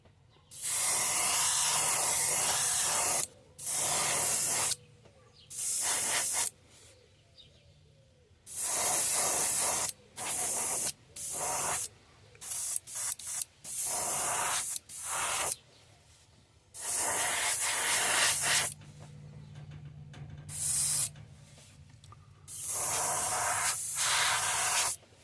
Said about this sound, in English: we'll just spray this Pearl White all over him.